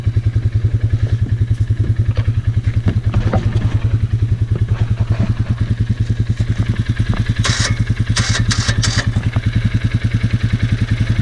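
2019 Polaris Sportsman 450 ATV with a loose part rattling, a steady close engine idle with a rapid rhythmic clatter throughout and a few sharper metallic taps near the end.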